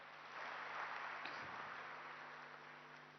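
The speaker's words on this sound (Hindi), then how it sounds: "अब जोरदार ताली बजाओ" Audience applause at a spiritual talk, a soft diffuse patter of clapping that swells and then slowly fades, faint and distant.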